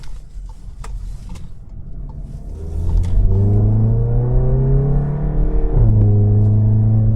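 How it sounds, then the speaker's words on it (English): A modified 2016 Volkswagen GTI engine idles low, then revs up loudly and holds, with brief crackles and pops from the exhaust as the throttle lifts. "You can kind of hear some of that crackling and popping going on."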